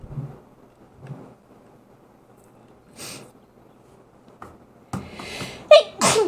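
A person sneezes sharply and loudly near the end, following a few quieter breaths and snorts in an otherwise quiet room.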